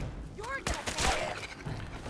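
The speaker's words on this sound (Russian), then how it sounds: "Просто один выстрел." A single gunshot fired in the video game Fallout 4 during a fight with ghouls, a sharp brief report standing out amid game sounds and nearby speech.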